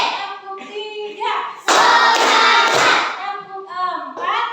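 A group in a classroom doing a rhythmic clapping chant before a lesson: sung voices with a burst of loud claps in the middle, close and energetic.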